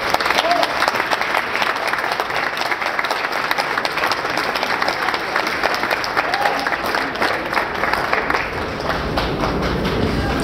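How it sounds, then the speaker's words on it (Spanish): A conference audience welcomes the speakers with loud, sustained applause. The dense clapping of many hands fills the hall steadily for over ten seconds, with a voice faintly audible beneath it. "Recibámoslos con un fuerte aplauso,"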